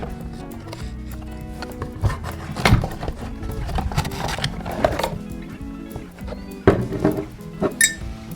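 A printed cardboard box for a 750 ml Blenders Pride whiskey bottle is opened, giving close clinks, taps and light knocks of glass and cardboard in an irregular rhythm, with no talk.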